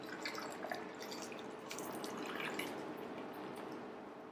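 Water pours over tomatoes in a glass, a soft continuous splashing and trickle at low level that runs steadily without pause.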